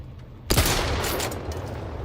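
A gunshot in The Outer Worlds 2 video game, one sharp loud blast followed by a long rumbling reverberant tail with other game sounds continuing beneath, no talk.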